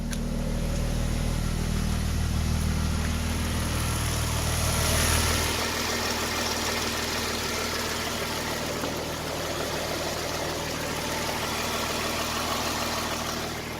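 A flood-damaged Ram truck's engine idles smoothly, a steady low rumble that drops slightly in pitch partway through and then settles into an even, continuous hum with no talking.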